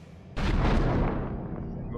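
A powerful boom from kamikaze drones striking two ships at sea, a sudden loud blast that rolls into a long rumbling roar, trailing off over about two seconds.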